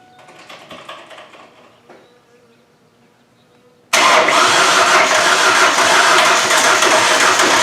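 A 1999 Mazda B2500 pickup with a five-speed manual, after sitting for half a year, cranks quietly for a few seconds, then its engine suddenly catches and settles into a loud, steady, close idle.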